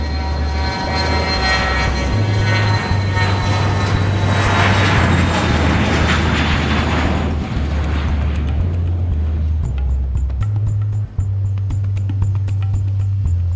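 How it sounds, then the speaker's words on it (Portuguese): A Boeing 727 airliner with 36 passengers takes off, its engines a loud, steady roar with deep droning tones that hold for the whole stretch, with no voices heard. "o avião decola."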